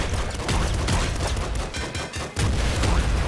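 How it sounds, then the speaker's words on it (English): Dense, rapid bursts of explosions and gunfire in Nuclear Throne pound continuously, loud and chaotic, with a brief dip before the barrage resumes. "Oh my god, the explosions!"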